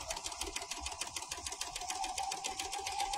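A serger sewing machine threaded with four colors and set to a 6 mm cutting width runs at steady speed, its rapid mechanical stitching chatter and hum continuous and close.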